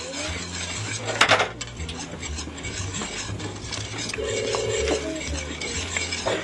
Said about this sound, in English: we're just going to keep stirring that in there